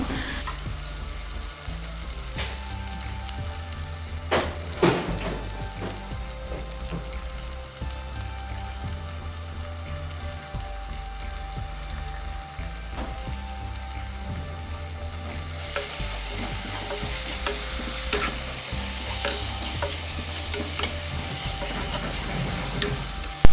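Curry leaves and coriander leaves sautéing in a pan for a chicken curry, a steady sizzle with repeated scraping stirs, growing louder and hissier near the end.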